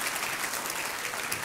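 Studio audience on the Hindi quiz show Kaun Banega Crorepati applauds a female contestant, a brief continuous wash of many clapping hands, steady and fairly loud.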